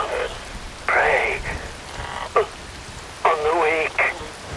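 Rain falling in a Metal Gear Rising: Revengeance cutscene, a steady hiss of rain on surfaces beneath someone speaking, with bursts of processed voice and radio-like tones over it.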